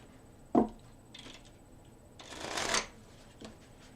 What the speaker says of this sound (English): let's give these cards 3 more shuffles